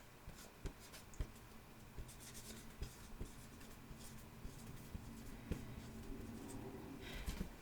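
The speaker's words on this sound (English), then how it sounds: "let me go ahead and just write that one down" A pen scratches across paper in a quiet ASMR setting, with faint soft strokes and occasional light taps over a low hissy background, close but very soft, with no talking.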